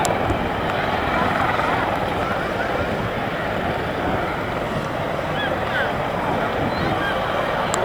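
A helicopter flies at a rotorcraft airshow, producing a steady, loud rotor and engine drone that holds constant throughout with no gaps.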